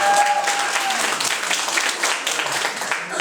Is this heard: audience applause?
yes